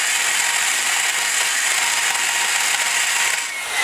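A stone grinds against a valve seat in a small-block Chevy 186 cylinder head, a steady close hiss-whir without pause that eases off just before the end.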